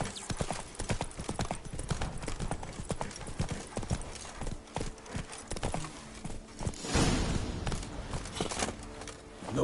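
Roach the horse gallops in The Witcher 3, hooves pounding in a quick rapid rhythm with some clattering and a brief neigh-like swell, loud and continuous.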